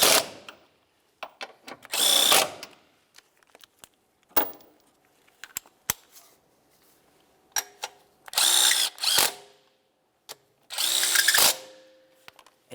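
A power tool drives down the four bolts of a 2011-2018 Volkswagen Jetta engine mount, running in several short whirring bursts with quiet gaps and small metallic clicks between them, close and loud.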